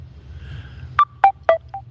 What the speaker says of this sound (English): that's my phone. I just had a message